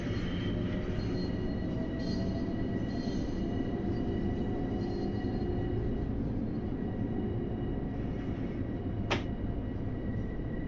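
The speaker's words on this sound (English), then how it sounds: "Oh, that train cut me off." A train rolls past in an LIRR-themed railroad video game, a steady loud rumble filling the whole stretch with a faint high squeal near the end, no voices over it.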